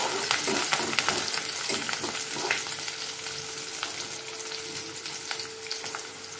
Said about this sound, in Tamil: நம்ம கருவேப்பிலை போட்டுக்குவோம். அதையும் நல்லா வதக்கி விட்டுக்கலாம்.